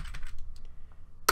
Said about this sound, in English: type services.msc